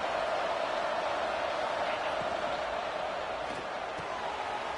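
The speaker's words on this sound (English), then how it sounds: "Listen to the crowd energy here in the early going." Dense, steady roar of a football stadium crowd during a college conference championship game, a continuous broadband wash of cheering with no breaks, loud and enveloping throughout.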